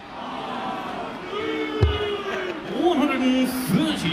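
Darts arena crowd at a Champions League of Darts semi-final reacting with disapproval: a broad murmur of many voices rises into scattered jeers and rising boos, loud and sustained, with a sharp thud near the middle.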